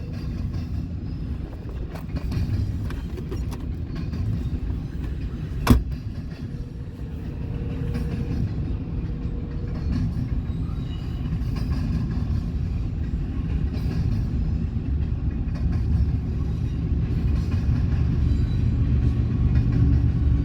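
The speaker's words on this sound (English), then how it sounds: "fairly large westbound stack train here. 53 footers, double stacked, pretty much from front to back." A large westbound double-stacked freight stack train with 53-foot containers and a mid-train DPU rolls past as a continuous low rumble with rail clatter, steady and loud for the whole stretch, a single sharp click partway through.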